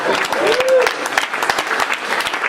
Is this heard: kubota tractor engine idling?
no